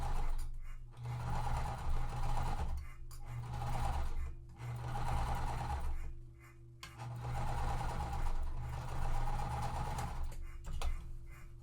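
A sewing machine stitches quilt blocks in steady whirring runs with short pauses between them, close and continuous, with no talk.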